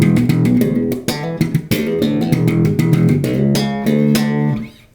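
A bright, punchy funk slap bass riff with snapping plucked notes jumping between low and high octaves, played alone and fading out at the end.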